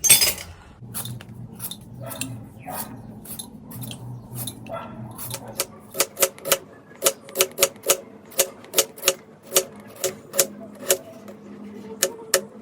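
Knife chopping vegetables for chow mein on a board in a home kitchen, starting as soft uneven cuts and then turning into a steady series of sharp, close taps roughly every half second.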